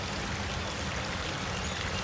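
A small creek running fast in a spring flood, a steady dense rush of flowing water, close and unbroken, with no talking.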